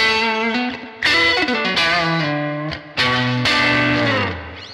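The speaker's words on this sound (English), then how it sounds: "when you do engage the distortion side on the right side of the circuit" Electric guitar played through the distortion side of a clone overdrive pedal, ringing chords and bent notes with a thick, saturated tone, loud and alone, with several sharp strummed attacks and sustained decays.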